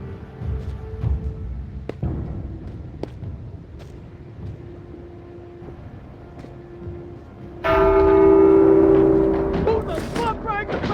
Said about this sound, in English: Who the fuck rang the bell?